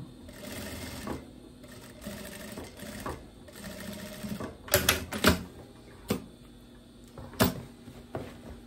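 A sewing machine stitches a facing along the back edge of wide-leg trousers, running in short uneven bursts with brief pauses and a few sharp clicks near the end.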